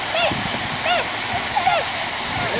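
Water sprays from a fire truck hose in a continuous loud rushing hiss, while voices call out briefly over the steady flow.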